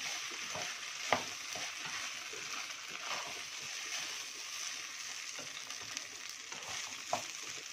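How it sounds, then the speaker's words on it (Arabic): Broth poured over rice and taro in a cooking pot, a soft continuous sizzling and bubbling with small splashes and occasional sharp clinks, steady and fairly quiet throughout. "ازود الشوربه اللي انا عايزاها"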